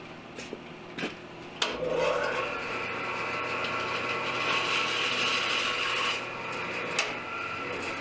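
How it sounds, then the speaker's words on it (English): Hand-sawing wooden dowels flush on a farmhouse table build: a few sharp knocks, then a steady rasping saw stroke running for several seconds before trailing off, close and fairly quiet. "Here I'm marking it out and going to cut the dowels for each side."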